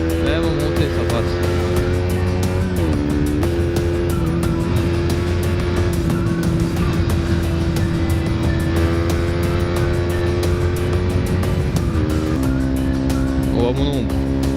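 A KTM Duke 125 motorcycle climbs uphill and overtakes, its engine droning steadily and loudly with a few brief pitch shifts at gear changes, under wind noise and occasional talk from the rider.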